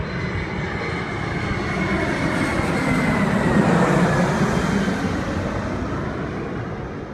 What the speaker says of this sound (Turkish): İzlediğimiz bu kamera kaydında uçağın adeta süzülerek ilerlediğini görüyoruz